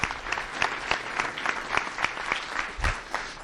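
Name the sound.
audience applause for the sponsors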